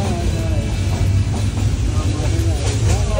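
Udayan Express passenger train running at night, leaving a Sylhet railway station, with a steady low rumble and faint rhythmic rail noise throughout, loud and close, with some voices faintly underneath.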